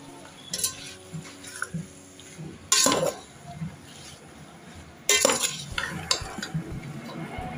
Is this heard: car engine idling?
no